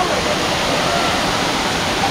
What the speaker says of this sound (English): And the waterfall is still awesome